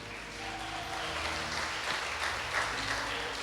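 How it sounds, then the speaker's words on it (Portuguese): A church congregation applauds during an evening service, a steady wash of clapping heard from some distance, fairly soft and even, with a low hum underneath and no clear talk. "dá uma salva de palmas para Jesus."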